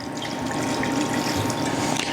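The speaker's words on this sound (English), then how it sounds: "we're going to pour our wine into the pan." Wine pours into a hot pan of mussels over high heat, a steady continuous splashing and sizzling pour lasting a couple of seconds, close and fairly loud with no talk.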